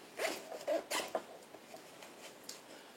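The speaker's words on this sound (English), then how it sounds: "Now on the front zipper here," A clothing zipper on a front pocket is pulled open in several quick, close rasping strokes, followed by faint rustling and small handling sounds.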